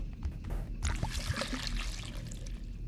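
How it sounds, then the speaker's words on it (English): Liquid pouring into a glass in a video game, a soft, continuous trickle with small splashy bursts, heard close and fairly quiet over a low background hum. "Wait, can I actually pour a glass?"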